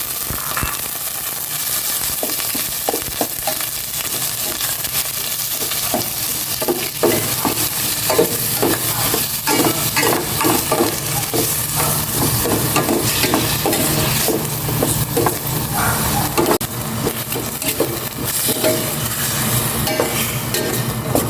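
Pork sautéing in a pan, a steady sizzle and fry that runs the whole time with repeated scraping stir strokes, close and loud, and no voices.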